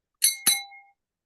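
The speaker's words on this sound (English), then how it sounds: "you can listen to this bell notification as it rings" A notification bell rings twice in quick succession, two bright metallic dings whose tones linger and fade out alone in silence.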